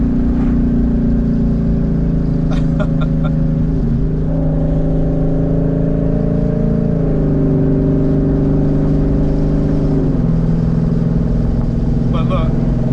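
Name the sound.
twin turbo Mustang engine revving and downshifting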